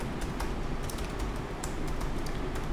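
Typing on a computer keyboard while logging in to the Amazon Web Services console, a quick irregular run of close key clicks over a steady room hiss.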